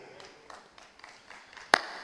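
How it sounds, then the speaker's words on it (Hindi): A few people clapping slowly and unevenly, soft scattered claps at a loose steady pace with one sharper, louder clap near the end, faint against a quiet room. "2-3 लोग ताली बजा रहे हैं"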